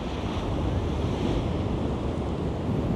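Sea waves wash against the shore under steady wind, a continuous broad roar of surf with wind buffeting the microphone, loud and close throughout with no voices.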